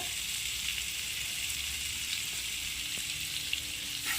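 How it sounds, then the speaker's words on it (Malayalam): Four tablespoons of butter sizzle in a hot pan for butter chicken, a steady close hiss and crackle that holds without a break and without speech. "ഈ ഒരു പാനിലേക്ക് തന്നെ ഒരു നാല് ടേബിൾ സ്പൂൺ ബട്ടർ ഇട്ട് കൊടുക്കുന്നുണ്ട്"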